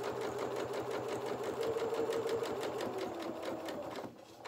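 A sewing machine stitches the bodice of a small doll's sailor dress, running in a steady, close, continuous whir with rapid needle rhythm before slowing and stopping near the end.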